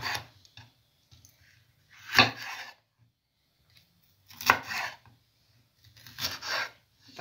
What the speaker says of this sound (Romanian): tăiem ardeii